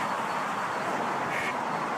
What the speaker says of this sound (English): Mama duck is back.